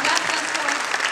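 Brief burst of applause at a multilingual conference or gala, honouring the interpreters; dense, loud crowd clapping with voices mixed in.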